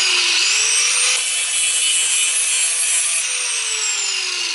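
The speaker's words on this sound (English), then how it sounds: "angle grinder." Angle grinder cutting through a car's flexible muffler pipe, a loud, close, continuous high-pitched whine and grinding rasp that dips slightly in pitch under load, with no talk.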